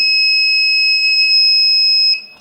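A steady, piercing two-tone electronic alarm from a door-and-window alarm circuit in an electronics lesson, sounding loud and continuous for about two seconds before cutting off abruptly.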